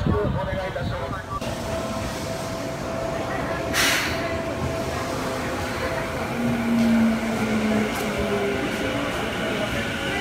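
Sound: train arriving for Iruma at platform 2

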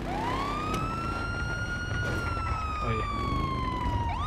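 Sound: police car siren in a video game

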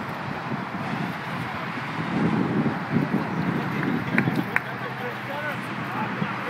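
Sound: wind blowing outdoors

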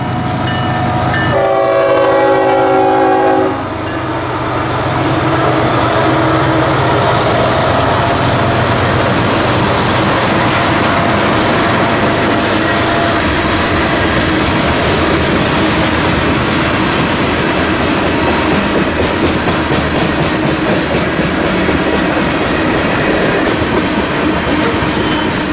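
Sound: freight train passing with horn

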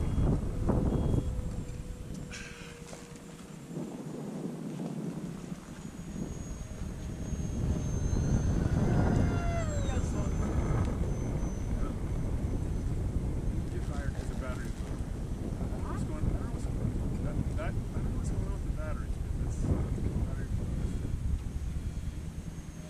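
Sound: Durafly EFXtra Racer RC plane flying before landing

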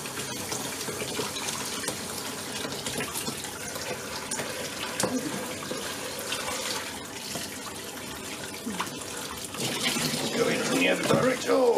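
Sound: hot water poured into washer dryer to clear blockage

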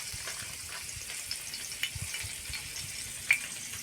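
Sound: garlic frying in a pan for potato chutney

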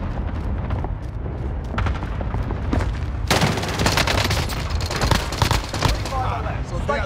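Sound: cluster strike explosions in Call of Duty video game

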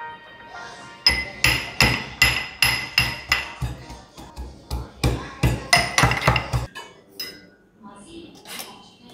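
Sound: pounding garlic and ginger

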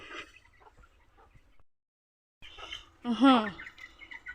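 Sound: chickens clucking

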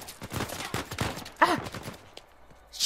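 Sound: gunfire in Uncharted 4 video game

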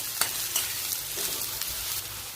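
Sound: bottle gourd sautéing in oil with garlic

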